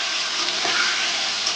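Giant taro (mankochu) pieces frying in oil with salt and turmeric, a loud, dense and steady hiss of sizzling close up.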